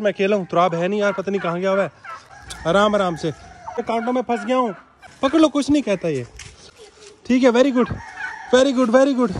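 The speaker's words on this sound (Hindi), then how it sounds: "यार हमारा टर्की बर्ड ना वहां से छलांग मार के ना यहाँ पर आ गया है" A turkey tangled in thorny bushes lets out warbling gobbles and squawks while being caught, close and loud, mixed with someone talking over the commotion.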